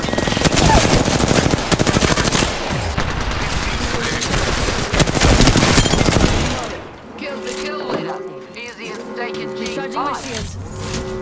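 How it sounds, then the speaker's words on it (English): Dense automatic gunfire rattles loud and close during an Apex Legends match, with rapid bursts over the first six seconds, then quieter game effects and distant shots follow, while a voice speaks. "Enemy there. I'm opening fire."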